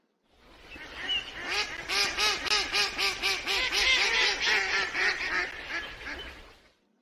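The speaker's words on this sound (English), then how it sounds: "Mallard duck." A duck quacks repeatedly in a fast, steady series of loud, raspy calls that swell and fade over several seconds.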